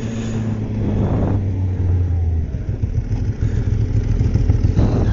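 A Ducati motorcycle passes close by in traffic, its engine roaring steadily and rising slightly as it goes, with loud road and engine noise filling the whole stretch and no voices.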